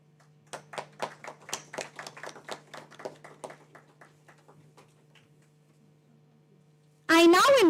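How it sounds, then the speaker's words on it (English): Sparse applause at a valedictory function for a workshop on industry-based robotics, IoT and automation: about twenty separate claps that thin out and fade, over a steady hum, then a sudden loud tonal burst. "Please give a round of applause."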